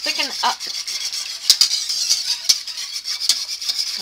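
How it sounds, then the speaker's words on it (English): A spoon stirs white gravy in a pot on the stove, with soft scraping and a few sharp clinks against the metal and a brief voice at the start. "after stirring and stirring and stirring"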